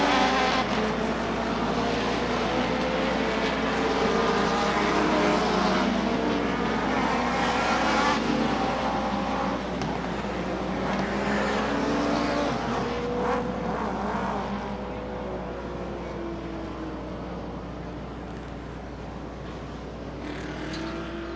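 Race cars circle a short oval at Rockford Speedway during a 1996 stock car race. Their engines make a continuous, roaring drone that swells and fades slightly as the cars pass at a middle distance.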